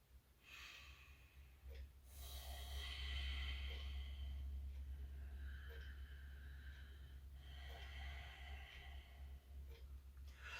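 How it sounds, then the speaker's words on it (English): Continuous, consciously connected breathing practice, audible breaths following one another without pauses, each inhale and exhale a soft, close airy rush in a steady rhythm, with no talking. "you will hear yourself breathing. So it's not a silent breath"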